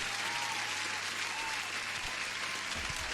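Applause on a live trading stream, a dense and even wash of crowd clapping heard at a steady level throughout, with no distinct individual claps standing out.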